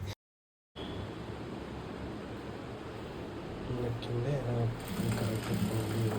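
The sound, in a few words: sewing machine stitching an Anarkali dress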